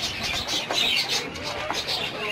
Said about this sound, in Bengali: এর পরের খোপটাতে আমার কিছু কবুতর রাখা আছে